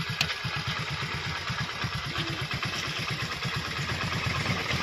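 A motorcycle engine idles with a rapid, even low thump as the bike arrives, close by and steady throughout with faint clatter.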